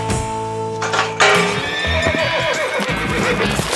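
A young colt being trained whinnies loudly and close by, a long quavering neigh followed by a second call, with scattered hoof clip-clops and rustling around it.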